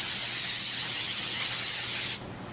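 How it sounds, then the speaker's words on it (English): A steady, loud aerosol spray of cooking spray onto a non-stick cookie sheet hisses continuously for about two seconds, then cuts off abruptly into quiet. "We're going to spray our non-stick cookie sheet."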